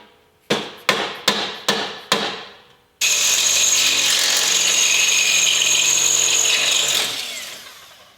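A power tool fastens Nerf bars onto an RC truck. Five quick, loud impact bursts are followed by about four seconds of steady, high-pitched motor whine that then winds down, with no talking.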